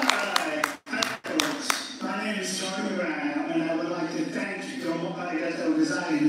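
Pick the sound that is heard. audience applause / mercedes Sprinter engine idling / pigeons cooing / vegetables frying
audience applause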